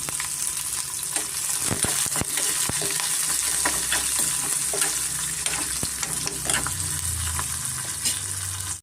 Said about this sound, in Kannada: ಈರುಳ್ಳಿ ಬೆಳ್ಳುಳ್ಳಿ ಶುಂಠಿ ಹಸಿಮೆಣಸಿನ್ಕಾಯಿ ಎಲ್ಲ ಚೆನ್ನಾಗಿ ಫ್ರೈ ಆಗಿದೆ